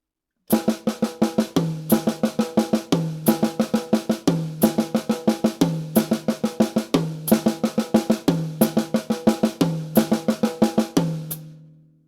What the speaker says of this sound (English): we're going to add the toms as an accent.